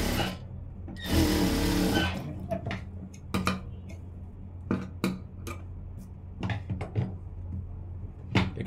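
Sewing machine running a stitch along a blouse hook strip, one sustained burst of stitching followed by scattered clicks, taps and handling noises of fabric and tools nearby, with no talk.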